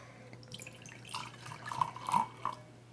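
A few drops of water falling into a glass of high-proof Booker's small batch bourbon, several faint, close drips and small splashes over a low steady hum, with no talk.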